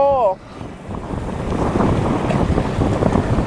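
Strong wind blowing at the seaside buffets the microphone in a loud, continuous roar that builds and holds, after a brief voice at the very start.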